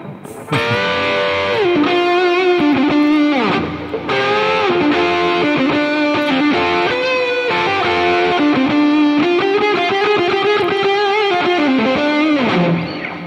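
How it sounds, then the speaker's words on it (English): A sustained electric guitar lead sound through a pedal board drips with heavy reverb and some distortion, its notes bending and ringing out loud and alone for the whole stretch, with no talking. "A bit too much reverb when I hear it now, you know, but I'm going for some kind of lead sound"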